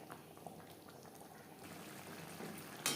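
Shankar fish curry simmers quietly in water, giving a faint bubbling, gurgling wash with small liquid pops, very low in level, over a few seconds.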